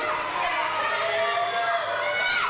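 Crowd at a W3L Championship Showdown wrestling event heckling and jeering Sammii Jayne, a continuous dense din of shouting voices, some shrill, running throughout beneath commentary.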